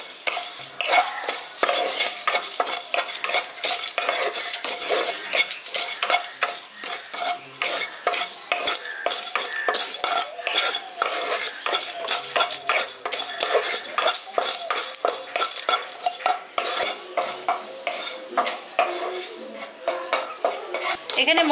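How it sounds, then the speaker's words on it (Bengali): Whole cardamom, cloves, cumin, fennel and coriander seeds dry-roasted in a pan for a village-style potato curry, with a steady rapid scraping and rattling of a utensil against the pan, close and continuous with no talking. "এবার এটা শুকনো খোলায় ভেজে নিয়ে আমি গুঁড়ো করে নেব।"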